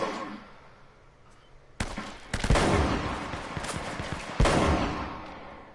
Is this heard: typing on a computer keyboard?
no